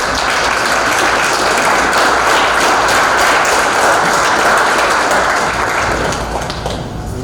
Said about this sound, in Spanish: tengamos al maestro Armando Alfonso Jiménez, para quien pido un fuerte aplauso.